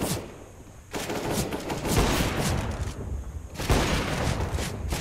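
Rapid bursts of video game gunfire crackle loud and close, in two dense barrages separated by a brief lull, with no voices over them.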